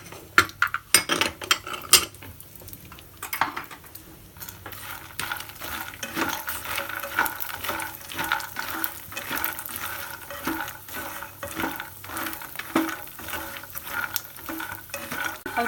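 Vermicelli being roasted in ghee in a kadai, with a spatula scraping and stirring steadily throughout, a soft continuous sizzle underneath and occasional sharper clinks of utensil against the pan.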